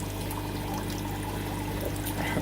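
Water pours and trickles steadily through an aquarium sump in a fish room for discus, a continuous splashing flow under a constant low hum of pumps.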